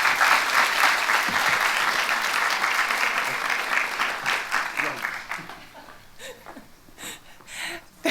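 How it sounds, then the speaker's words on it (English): An audience at an awards ceremony applauds loudly, the clapping thinning out and fading after a few seconds into scattered claps and faint room sounds. "please join me in welcoming Professor Karen Reid to the podium with a round of applause"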